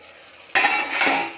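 Chopped ridge gourd and tomato pieces hit a hot kadai, bursting into a loud sizzle after a quiet moment. A second surge of frying follows half a second later, then the hiss settles into a steady crackle.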